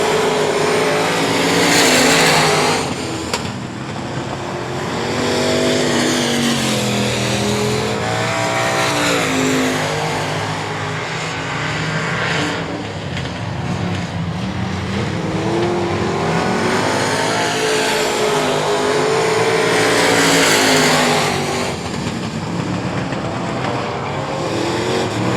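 Race cars circle a speedway oval, engines revving and wailing as they pass close by in waves, with tire noise mixed into the continuous loud racing din.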